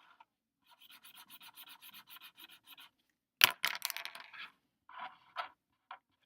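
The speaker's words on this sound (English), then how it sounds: "Okay, so we'll just do a quick drawing." A pencil moves over paper in a quick sketch: a run of short, rhythmic scratchy strokes, then a sharper tap and a few louder, separate scribbles, close and alone.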